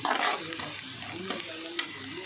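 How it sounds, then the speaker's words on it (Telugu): Chicken curry stirred in a hot pan just after turmeric goes in, a sizzling fry with scraping spoon strokes and a couple of sharp clicks, close and moderately loud. "పసుపు వేసుకున్న తర్వాత కొంచెం కలుపుకొని"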